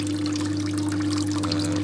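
A small 8-watt pump in a geothermal hydroponic cooling system pours water from its outlet, a close, steady splashing trickle over a constant low electrical hum.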